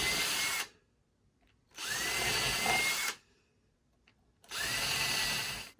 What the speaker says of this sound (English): To clean these out, I'm going to turn the drill in reverse.